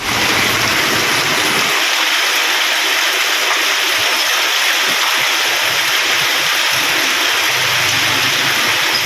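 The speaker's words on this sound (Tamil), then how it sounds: "இதேபோல மதுரையிலும் கனமழை கொட்டி தீர்த்தது." Heavy rain pours down in Madurai as a loud, steady, dense hiss that runs without a break throughout, with no voices.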